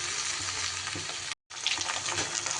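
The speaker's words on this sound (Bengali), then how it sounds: "সব সবজিগুলো আমি এবার একসাথে দিয়ে দিচ্ছি" Mixed vegetables tipped together into a hot pan for a Bengali vegetable chorchori, loud close bubbling sizzle with a momentary dropout, then the frying hiss resumes with spattering crackles.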